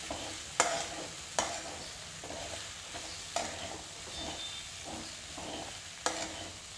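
Sabudana khichadi is stirred and mixed in a pan over a gentle sizzle, with regular scraping strokes and a handful of sharp clinks of the spoon against the pan.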